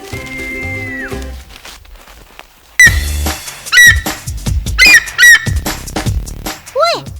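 Eagle giving loud, shrill squawking calls in repeated bursts, very close and piercing, with sharp rising and falling shrieks, after a short quieter stretch with a steady tone.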